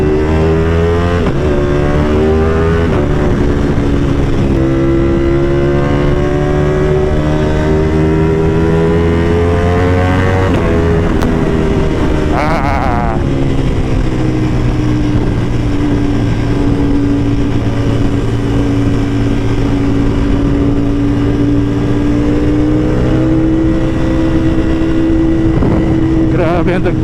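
A Ducati Panigale motorcycle engine drones and revs continuously while being ridden, pitch rising and falling through gear changes, loud and close, with a rider talking over it.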